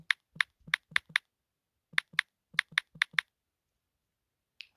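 Fingers typing a search on a phone's on-screen keyboard in the TikTok app, a close run of light taps in quick bursts of three to five with short pauses, then a single faint tap at the end; no talking.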